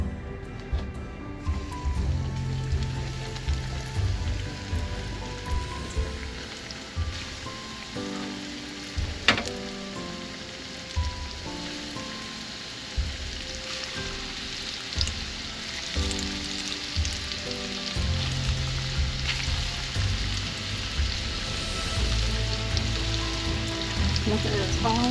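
Chicken nuggets fry in a pan, giving a steady crackling sizzle that runs throughout at moderate level, with a few sharper pops and light clatter along the way.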